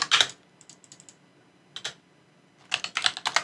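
Keystrokes on a computer keyboard while modelling in Rhino 3D software, a quick burst of taps, scattered light clicks, a pause, then a faster flurry of typing, close and clear with no speech.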